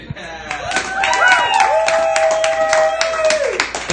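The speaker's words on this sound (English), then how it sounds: "Thank you for applauding." A comedy club audience at a stand-up set claps in a steady, moderately loud patter that runs through the whole stretch, with a voice and sustained tones sounding over it.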